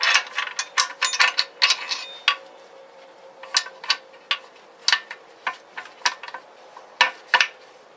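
Metallic clicks and ratcheting ticks as a shaft is slipped into a motorcycle crankcase with gears, a close irregular series of sharp clicks, busier at first and then more spaced out.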